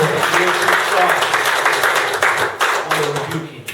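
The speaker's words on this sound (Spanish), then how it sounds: "Un fuerte aplauso a Cristo" A church congregation applauds during a service, with dense, sustained clapping that fills the room while a voice talks over it.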